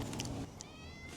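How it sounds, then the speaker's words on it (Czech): A cat meows nearby during a food tasting in Edinburgh: a short, high meow rises out of a busy, noisy background, fairly faint, with no talking over it. "Tady je kočka vedle."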